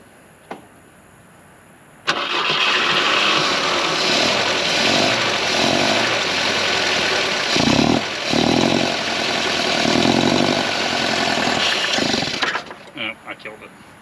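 A 1967 Volvo Amazon 122s engine with the choke pulled catches and runs loudly and roughly for about ten seconds, its note wavering, then cuts out into a few sputters, with people talking nearby.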